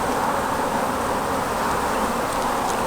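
A honeybee colony from a collected swarm, housed in an old nuc box in Norfolk, drones in a close, continuous buzz with no pauses or voices.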